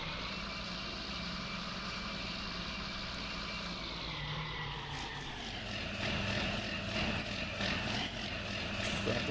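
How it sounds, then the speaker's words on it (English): Farm tractor in Farming Simulator 19 reversing toward a trailer, a steady low engine drone with a pitch shift midway as it backs up, with faint repeated clicks toward the end. "let's just jump into our tractor, turn the backlight on, and we will back up to the trailer"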